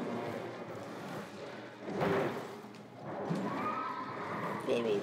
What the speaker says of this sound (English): Oh, here comes the horse.